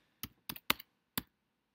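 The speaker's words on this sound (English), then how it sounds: "You're going to type in payment." Keys clacking on a computer keyboard while typing a word into a search field: four crisp, quiet keystrokes in an uneven rhythm, close by, with no speech.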